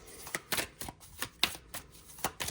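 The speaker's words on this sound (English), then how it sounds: "So I'm just going to shuffle" An oracle card deck riffles and slaps together in quick, repeated bursts, a close, crisp shuffling rhythm with no talking.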